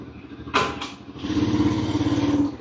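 An automatic motorcycle-like vehicle with reverse gear runs steadily with a low, even engine drone, close by, after a couple of brief louder bursts at the start.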